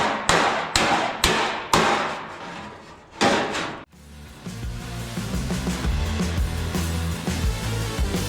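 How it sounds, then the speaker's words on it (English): A hammer strikes against a dolly while shaping the sheet-metal fender of a 1973 El Camino, several sharp ringing metallic blows in uneven rhythm, followed by a lower, duller stretch of rumbling work noise. "You can hear the pitch of the hammer and the dolly changing."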